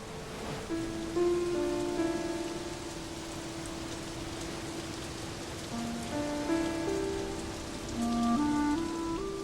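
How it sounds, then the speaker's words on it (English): Steady rain falls over the open sea at dusk, a dense, even hiss that runs throughout. A low sustained musical score plays beneath it. "it started to rain"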